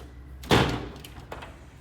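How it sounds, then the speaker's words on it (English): Balcony doors at an Amalfi Coast rental swing open with a single sharp bang and clatter, followed by a lighter knock a moment later, close and clear with no voices. "So both of these doors open up, which is very, very nice."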